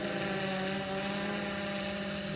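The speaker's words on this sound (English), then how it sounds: "The weaponized splash drone." A SwellPro Splash drone carrying a water bomb whirs steadily with a continuous propeller buzz and motor hum, close and loud, with no pauses and no talk.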